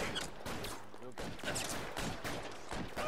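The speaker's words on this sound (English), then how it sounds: "I'm just dodging bullets like Neo here" Rapid bursts of gunfire from a shootout in the detective video game L.A. Noire, loud, dense and continuous, shots crackling over one another with no talk.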